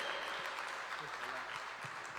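A church congregation applauds in continuous, fairly soft clapping heard from a distance, with faint voices mixed underneath.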